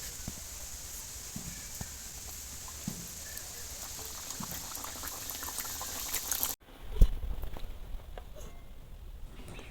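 Nimki, a flaky Bengali flour snack, deep-frying in hot oil: a steady bubbling sizzle that cuts off abruptly partway, followed by a louder splash and quieter, sparser bubbling.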